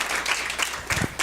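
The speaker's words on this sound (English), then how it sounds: "Please, let's say a round of applause again for Emily." Audience applause at an awards presentation, a short burst of clapping that swells in uneven waves with some low murmuring voices mixed in.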